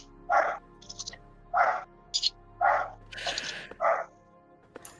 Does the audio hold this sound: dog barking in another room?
yes